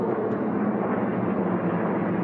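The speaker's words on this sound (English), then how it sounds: "Well, Danny, we still got airplanes out on the course coming around pylon number 9" A steady, loud roar of propeller racing airplane engines as planes round a pylon during an unlimited-class air race, continuous and broad without a break or any voices.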